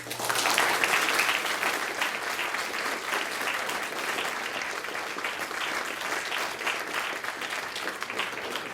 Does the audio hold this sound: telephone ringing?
no